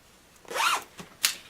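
A zipper on a cosplay garment is drawn in one quick rasping pull, followed by two short sharp zips, close and clear in a quiet room.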